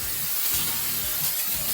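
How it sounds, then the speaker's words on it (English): Aerosol spray of Eastwood paint pre-prep misting onto an old enamel porcelain sink, a steady close hiss running throughout with no talk. "So basically just gonna spray it down."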